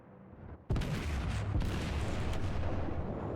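Warship main guns fire in World of Warships with a sudden heavy boom, followed by sustained rumbling gunfire and further blasts, loud and continuous with no talk.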